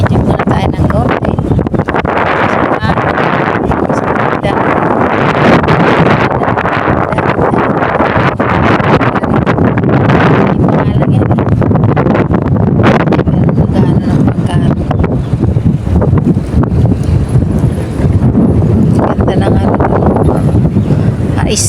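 Strong seaside wind buffets the microphone of someone walking, a loud continuous roar and rumble lasting over twenty seconds, with a person talking underneath.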